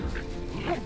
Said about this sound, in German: Standlaut von Hunden und Sauen überall.